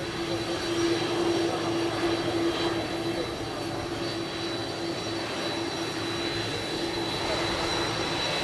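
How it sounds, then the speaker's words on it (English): A large airplane taxis at Palm Beach International Airport, its jet engines giving off a loud, constant roar and whine that hold steady throughout, heard from nearby with no talk. "a large airplane taxiing at Palm Beach International Airport"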